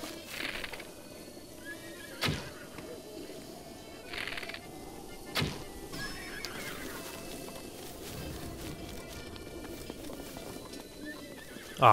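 A horse in Breath of the Wild clip-clops along at a steady pace while ridden, with a few sharp thuds, a brief whinny and faint bird-like calls over a soft outdoor background.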